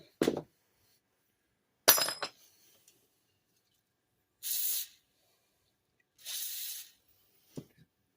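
Spray lube sprayed onto the engine case parts of a 2021 KTM 125 SX, heard as two short hissing bursts close up. A few light metallic clinks and taps come between them in an otherwise quiet workspace.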